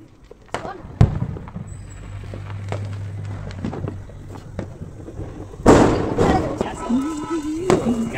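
Deepavali rocket fireworks go off outdoors with a sharp launch crack, a sustained hiss and a loud burst later, amid festival background noise and people talking nearby.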